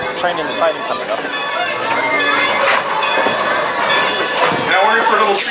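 A Strasburg Railroad passenger train rolls along its tracks, with loud, steady rumbling and clattering wheels heard from on board, plus faint crowd babble underneath.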